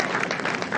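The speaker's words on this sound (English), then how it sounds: "Get some applause from area." Golf spectators at an LPGA tournament applauding a birdie, a brief, fairly distant ripple of clapping from a gallery.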